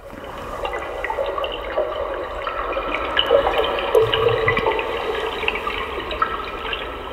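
Continuous deep, bubbly water sound, steady and full, with gurgling and occasional drips, no voices.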